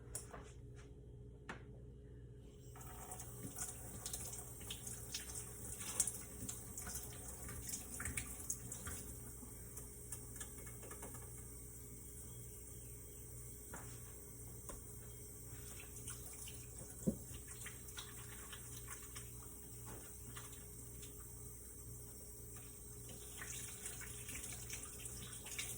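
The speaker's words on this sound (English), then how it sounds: "I rinse them down in the sink and I wash them." Tap water runs steadily into a kitchen sink while shrimp are rinsed, giving a continuous faint splashing hiss with occasional small knocks, no talking.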